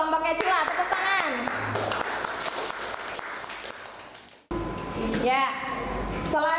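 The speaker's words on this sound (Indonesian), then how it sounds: "Ya, terima kasih untuk kelompoknya Cila, tepuk tangan." Students in a classroom clap their hands, with scattered clapping mixed with children's voices and chatter, broken by a brief cut before more voices follow.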